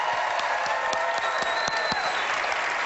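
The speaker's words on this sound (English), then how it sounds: "Everyone give Nikki a round of applause." A television studio audience claps steadily through a brief burst of applause, dense and even, with a faint voice beneath it.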